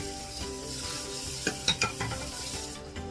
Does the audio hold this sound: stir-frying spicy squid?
yes